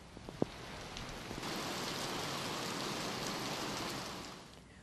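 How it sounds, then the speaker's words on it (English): Heavy torrential rain falls in the Seoul metropolitan area, a dense, steady hiss of downpour that swells after a few faint taps and holds at an even level. "South Korea reported heavy torrential rains in the Seoul metropolitan area for the second consecutive day"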